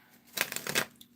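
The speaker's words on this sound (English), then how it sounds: "I lost count of the shuffles." A deck of cards is riffled in one quick, crisp shuffle, a brief burst of rapid fluttering snaps close up in a quiet room.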